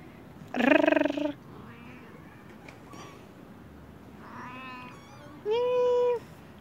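Kittens meowing in a backyard, with three separate high-pitched meows at close range and quiet pauses between them. The first and last meows are loud and drawn out.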